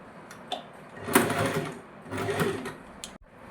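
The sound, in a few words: sewing machine stitching a blouse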